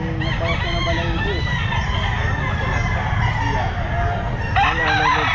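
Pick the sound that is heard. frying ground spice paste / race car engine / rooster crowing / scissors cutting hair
rooster crowing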